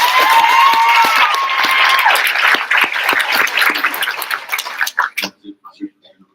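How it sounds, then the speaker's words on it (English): A school board meeting audience gives a round of applause for school resource officers, dense clapping that thins out and ends abruptly near the close, followed by a few scattered claps and quiet. "let's give a round of applause for our school resource officers"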